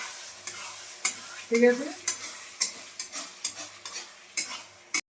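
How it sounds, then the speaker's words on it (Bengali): Fish chop mixture of fish, potato and spices frying in a covered, steaming pan, with soft sizzling broken by repeated clinks and scrapes of a utensil stirring against the pan; a brief voice speaks near the end. "এটা এবারে এরকম করে ভেজে নিতে হবে ভালো করে স্টিমে ঢেকে ঢেকে এটা আমি দিয়ে দিলাম।"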